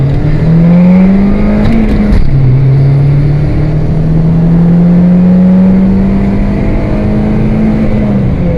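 A Peugeot car pulls away gently and accelerates hard, its engine loud and close, pitch climbing, dipping briefly at a gear change, then rising steadily again as it builds speed.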